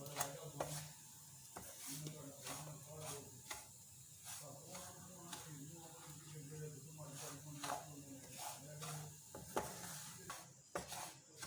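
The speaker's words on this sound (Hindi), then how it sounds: "सूजी को हम अच्छी तरह भून लेंगे।" Semolina roasts in a pan as a spoon scrapes and stirs it, giving repeated rhythmic scraping strokes with a faint sizzle, close but quiet, with a voice speaking underneath.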